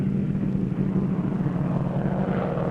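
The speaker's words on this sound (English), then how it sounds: "we got into the airplane and took off" An airplane taking off, a steady loud engine roar with a low droning hum, close and continuous throughout with no voices.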